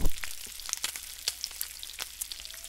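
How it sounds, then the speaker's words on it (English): Bacon sizzling in a pan, a steady crackle with scattered sharp pops and spits of fat, close and continuous with no voices. "It's a bacon sizzling."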